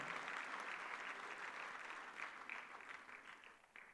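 A large crowd at a political rally in Jaipur welcomes Amit Shah with dense, continuous applause. The clapping is steady and distant, holding level for the full stretch before tapering slightly.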